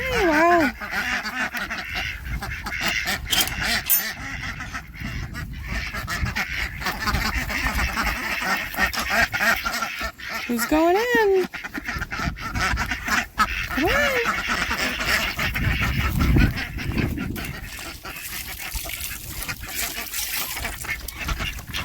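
Adult ducks, including a brown and white one, quack and honk loudly and repeatedly in a garden pen, with short bursts over constant outdoor noise while a person speaks briefly.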